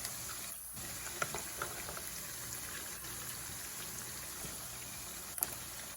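Pieces of lobster fry in a pan with a steady, soft sizzle and occasional small pops and crackles, close by and fairly quiet, with no talking.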